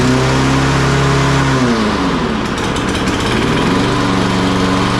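A free used gas lawn mower with a full tank starts up, its engine running loud and close, the idle wavering up and down in a steady rough drone.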